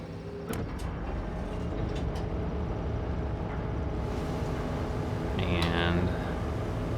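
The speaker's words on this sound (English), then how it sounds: "let's start the engine" Engine starting up in a simulator video game, a few clicks and switches before a low mechanical hum builds and settles into a steady idle, with a brief higher whir near the end.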